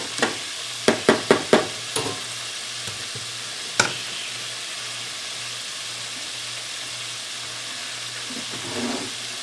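Shrimp deep-frying in a pan: a steady close sizzle with a quick burst of five or six sharp clinks early on, then one more tap, under an even low hum.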